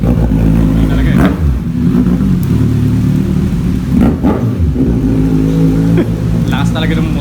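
A Kawasaki Z1000 motorcycle revs and pulls away, its engine rumbling loudly with several throttle blips and rising revs while people talk over it.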